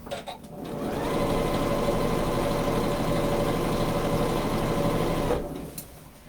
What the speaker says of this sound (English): Okay, so I'm sewing all around the top.